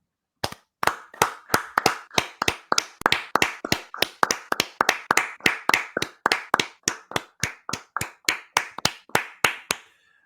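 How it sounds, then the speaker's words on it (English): A single pair of hands claps steadily about thirty times in a close, even rhythm of sharp, dry cracks, slowing slightly near the end before stopping. "And now we will now clap"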